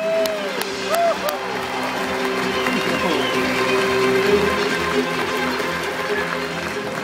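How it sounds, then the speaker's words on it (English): A large crowd applauds the dolphins at the end of a SeaWorld Gold Coast show, dense steady clapping and cheering filling an open-air stadium while an announcer's voice and music carry over it. "save your biggest round of applause for the true stars of SeaWorld themselves, our beautiful dolphins"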